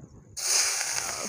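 Oil in a kadhai over a wood-fired chulha bursts into a sudden loud sizzle after a quiet moment, then holds a steady bright hiss close by.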